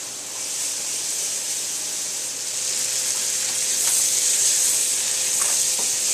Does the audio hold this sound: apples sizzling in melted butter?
yes